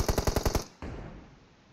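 Gunfire in the video game PUBG: a rapid burst of about seven automatic shots in quick rhythm, then a single louder crack with a fading echo tail, heard alone and fairly close.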